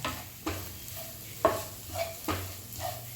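Masala is stirred and sautéed in a hot pan, a soft steady sizzle punctuated by regular scraping strokes of a spoon, close and fairly quiet.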